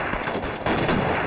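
Rapid gunfire in a war film about anti-Japanese guerrillas, a dense burst of loud shots crackling continuously through the short moment, with no voices.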